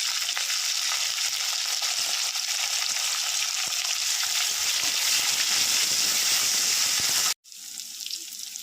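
Chopped tomato and green chilies fry in a pan with ginger and garlic, giving a steady loud hiss and crackle that runs without a break, then cuts off abruptly near the end before a quieter sizzle resumes.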